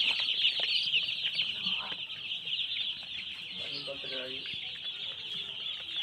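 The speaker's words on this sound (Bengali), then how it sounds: "দেখতে পাচ্ছেন ভাই পোলট্রিগুলা, পোলট্রি মুরগি" Broiler chickens on a poultry farm keep up a dense, continuous chorus of clucks and chirping close by, with someone talking briefly underneath.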